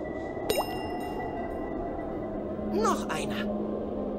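In The Night of the Rabbit video game, a dew drop falls with a resonant plink, then another drop follows a couple of seconds later over a soft ambient background hum.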